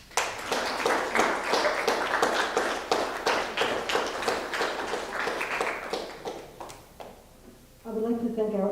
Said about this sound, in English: let's have a round of applause for the returning and new members and for the successes of World Language Honor Society